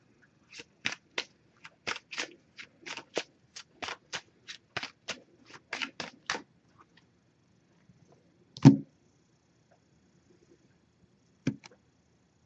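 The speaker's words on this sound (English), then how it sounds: "First, we'll see what we get from the Messages of Love Oracle card deck. I'm going to give this a few shuffles." A Messages of Love Oracle card deck is shuffled by hand in quick crisp riffles, each a brief flutter of card edges, repeated about a dozen times in a fast rhythm. A soft thump follows, then a couple of faint taps in a quiet room.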